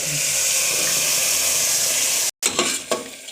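Hot pan of soaked chawli (black-eyed bean) curry sizzling steadily as ground masala paste is poured in and stirred, a loud continuous hiss that cuts out abruptly before a few clattering scrapes.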